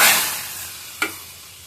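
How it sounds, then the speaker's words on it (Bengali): Potatoes frying in a pan make a brief hiss that fades quickly, followed by a single sharp clink of a utensil against the pan. "কিন্তু আলুটা ভাজা হচ্ছে"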